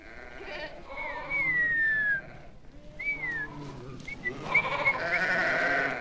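Sheep bleat in a wavering, drawn-out way, mixed with other livestock cries and a high whistle-like call. The sounds are fairly close and repeat over a steady outdoor background.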